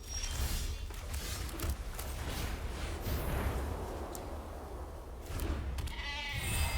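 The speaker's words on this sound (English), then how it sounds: "I got a goat. It's a spirit goat." A goat bleats in a wavering, drawn-out cry that swells and fades over a steady noisy background, in the setting of a Magic: The Gathering game with a spirit goat token, and no one talks.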